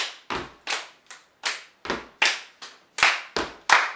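Crisp, close hand claps in a body percussion routine, about a dozen sharp strikes in a steady, uneven rhythm, some paired, with a few heavier hits mixed in and silence between them.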